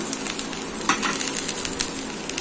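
Cabbage hits a hot pan and fries with a steady, bright sizzle, with faint stirring crackles throughout and no voices.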